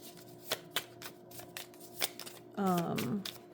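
Tarot cards are shuffled up close with a few soft taps and flicks, then a quick riffling burst near the end.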